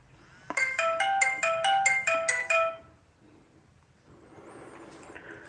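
A phone ringtone trills loudly in a repeating melodic pattern for about two seconds, then cuts off abruptly, leaving faint room noise behind during a classroom lesson.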